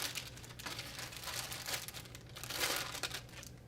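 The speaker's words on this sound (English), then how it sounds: "Now let's grab our new PCB out of the bag." A new circuit board for an Evolve finish and trim unit is pulled from a plastic bag, giving close, continuous crinkling and rustling with several louder crackling bursts, no voices.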